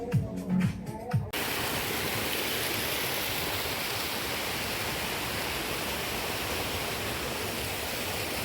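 A waterfall in the Sri Lankan mountains roars as a loud, steady, broad rush of falling water that fills the scene, after a short moment of other sounds at the very start.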